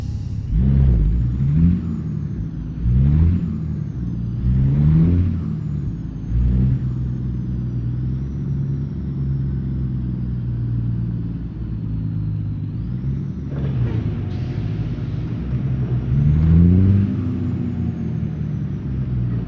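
A 1990s Outlaw Kenworth W900 truck engine rumbles close and loud while driving, with a few surging throttle swells and a deep steady drone between them, plus a brief air-brake-like hiss midway.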